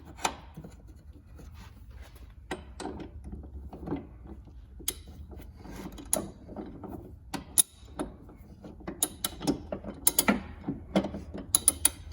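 Wrench tightening the locking nut on a BDX Super-Lite brake rotor, giving quiet ratcheting clicks and small metallic knocks that grow busier toward the end, close by with no talk.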